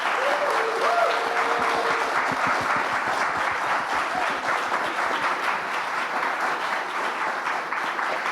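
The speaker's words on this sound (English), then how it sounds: "I want a big round of applause for them" A conference audience applauds a panel at a democracy summit, steady dense clapping that fills the room throughout, with a few brief tonal sounds near the start.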